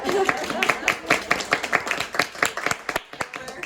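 A small bookshop audience claps at an author event, giving a short burst of scattered, uneven hand claps up close that mixes with some talking.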